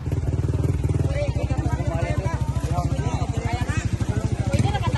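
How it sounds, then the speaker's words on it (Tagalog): Motorcycles move slowly past, their engines giving a close, steady, pulsing putter, with a crowd murmuring and talking throughout. "amat-amat nga nakalabay ang mga motor."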